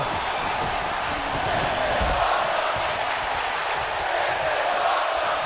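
Steady crowd roar and cheering fill a wrestling arena in WWE 2K after a double chokeslam, a broad, constant wash of noise with no break.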